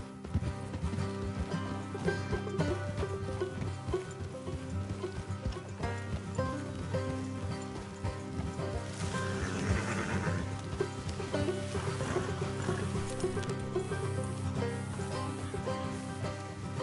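Horses gallop in the video game Red Dead Redemption 2, a soft rhythmic hoof clatter under a bed of game music and ambience, fairly quiet throughout.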